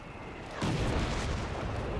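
Incendiary ammunition gunfire in the video game Company of Heroes 3, a sudden loud burst of heavy, booming fire that starts abruptly and rumbles on as a sustained roar.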